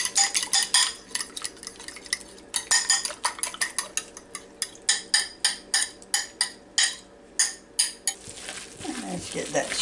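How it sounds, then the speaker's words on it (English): An egg is beaten in a bowl with a fork or spoon, giving a quick series of sharp rhythmic clinks and taps against the bowl, close and fairly loud, with a short pause partway and a softer rustle at the end. "Just going to beat it just a little bit."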